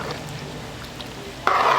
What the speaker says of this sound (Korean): 양파 이거 좀 볶아